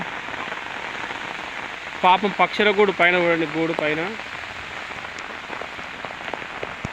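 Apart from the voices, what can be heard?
heavy rain falling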